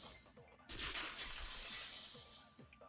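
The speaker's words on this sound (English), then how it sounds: "the girls heard the sound of the window shattering." Glass shatters loudly in the video game Danganronpa 2, a sudden burst of breaking window glass about two-thirds of a second in, followed by a long sustained crash and tinkling debris.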